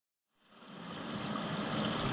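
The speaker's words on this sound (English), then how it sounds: "shower is running full. You can hear it. It's the water going into the waste down there" A shower runs at full flow, water pouring into a 90mm shower waste and drain, starting from silence and building to a steady, close rushing hiss with no voices.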